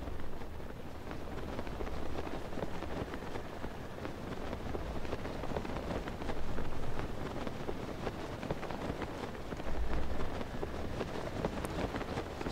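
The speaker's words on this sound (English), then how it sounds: "It's just a never-ending storm." Rain and storm in the Tears of the Kingdom video game, a constant dense wash of rainfall and wind noise with occasional low rumbling swells, steady and unbroken with no talk.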